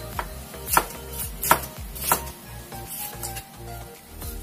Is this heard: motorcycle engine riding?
no